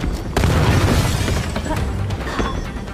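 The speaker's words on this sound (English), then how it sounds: "She said get to safety and then they walked into an explosion" In the video game Gotham Knights, a loud explosion booms in with a shattering crash, followed by a rumbling, crackling tail that gradually settles while staying fairly loud.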